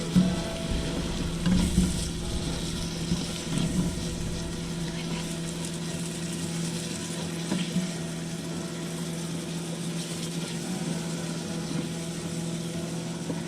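Chopped cabbage sizzles and fries in a pan as it cooks down, a continuous crackling hiss with a few louder stirring bursts near the start over a steady hum.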